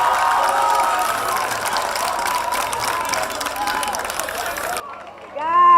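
Audience applause and cheering after a slam poem at a national poetry slam final in the Gambia, a loud, dense crowd roar with clapping that holds steady for nearly five seconds, then cuts off abruptly, and a voice begins speaking.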